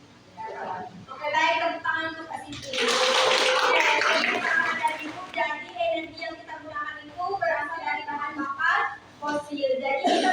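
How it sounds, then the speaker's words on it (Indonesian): A classroom claps for a student during a science teaching session, a burst of applause lasting a couple of seconds, with a teacher's voice speaking before and after. "tepuk tangan untuk Kak Siti"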